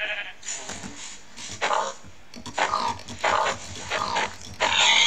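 A Minecraft pig gives a series of short grunting oinks in bursts separated by brief pauses, fairly close and fairly loud, with game background sound beneath.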